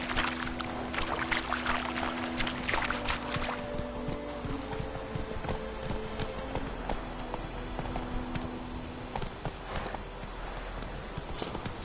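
A horse clip-clops along in The Witcher 3: Wild Hunt, its hooves beating a steady rhythm under game ambience and background music, with no talk.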